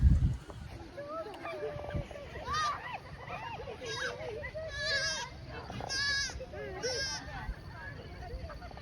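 Goats bleat repeatedly in a farm pen, several wavering calls overlapping at moderate distance, mixed with people talking nearby.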